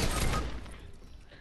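Sniper rifle fire in the game Fortnite lands as a loud, sharp blast at the start, followed by a rumbling tail that fades out over about a second.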